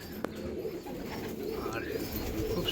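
Chotial pigeons, including a pair with young, coo softly in a loft, low rounded calls repeating faintly against quiet background noise.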